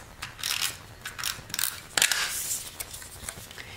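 A stapler punches through pieces of card and specialty paper, giving several short, close mechanical clicks and crunches in an irregular sequence over a few seconds.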